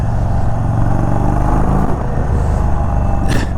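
A loud, close 2021 Indian Chief Bobber 116 Stage 2 motorcycle engine revs steadily through the mid range with a deep, throaty rumble.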